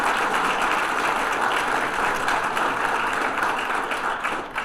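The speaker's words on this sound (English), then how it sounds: "Would you all please give these folks a great round of applause?" A crowd at a chamber of commerce luncheon claps steadily, dense and sustained applause filling the room for several seconds before beginning to taper.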